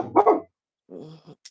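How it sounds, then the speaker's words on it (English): A dog gives a close, loud double bark, then after a short pause a lower, softer growling bark with a brief yip at the end. "Look at the dog barking."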